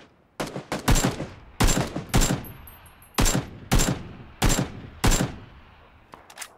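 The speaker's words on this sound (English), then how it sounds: "Oh, I hear so many shots." Bursts of gunfire in PLAYERUNKNOWN'S BATTLEGROUNDS, about seven loud volleys of rapid shots spaced roughly every half second to a second, close and sharp, with short gaps between, no talk.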